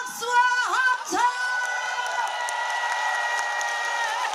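A crowd at the Naju agricultural fair's outdoor stage cheers and applauds to welcome a trot singer, a steady wash of clapping and shouts held for several seconds, with a bright whooping tone rising at the start.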